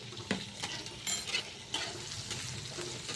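Amaranth stems fry with a pinch of turmeric in a pan for a chutney, giving a steady close sizzle broken by several scraping stirs.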